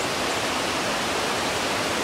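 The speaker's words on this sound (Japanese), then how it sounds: "そして目の前に流れる川ですね。" A river flowing in front of a cottage in a mountain village gives a steady, dense rush of water, loud and unbroken throughout with no voices.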